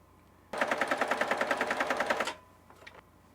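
A Pfaff sewing machine stitches a waffle stitch in one steady burst of rapid, evenly spaced needle strokes lasting under two seconds. It stops abruptly, followed by a couple of faint mechanical clicks.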